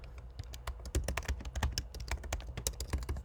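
An axis title being typed on a computer keyboard: a quick, irregular run of close, crisp key clicks with no voices.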